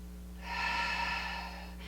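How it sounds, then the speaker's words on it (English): A single deep breath during a Pilates stretch with a resistance band: a soft, airy exhale swells for about a second and then fades, close and quiet over a low steady hum. "Another breath."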